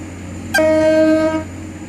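A train horn sounds one steady tone, loud and close, for under a second over a low running rumble in the Roblox game Stepford County Railway, with no talking.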